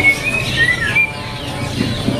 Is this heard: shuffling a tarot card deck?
no